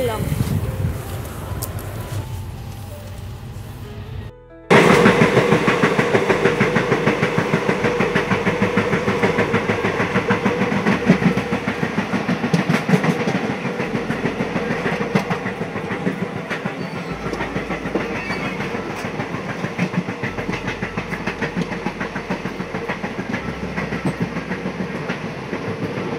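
Inside a moving passenger train, a steady loud rumble and rhythmic clatter of wheels on the rails runs after a quieter opening, with a voice talking over the noise.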